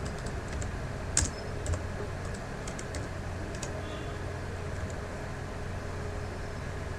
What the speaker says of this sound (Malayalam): ഗുഡ് മോർണിംഗ് എന്ന് ടൈപ്പ് ചെയ്തു.